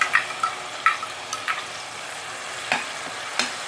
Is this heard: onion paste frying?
yes